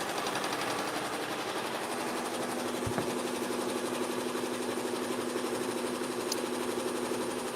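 Embroidery machine stitching designs onto bags, a steady rapid mechanical whirring and clatter that runs evenly throughout with one brief thump near the middle, fairly close and alone with no talking.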